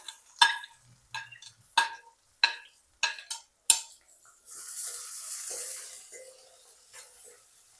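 A spoon scrapes and clinks against a pan in a steady rhythm, then a soft, hissing sizzle rises as onion and garlic-chili paste fry for Rajasthani dal. No one speaks.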